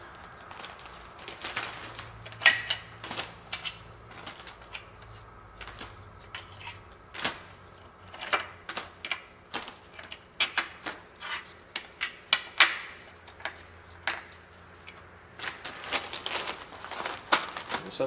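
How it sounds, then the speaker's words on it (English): Loose metal exhaust manifold bolts from a Jeep 4.0 liter engine being dropped into a Ziploc bag, a string of sharp clinks and plastic crinkles, close and fairly quiet, with no talking. "I'm going to put all my manifold bolts into a Ziploc so I don't lose them"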